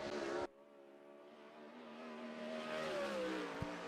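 A 410 sprint car engine howls through a qualifying lap, a loud burst cutting off abruptly before a steady, more distant engine drone rises and swells, with a faint voice barely present.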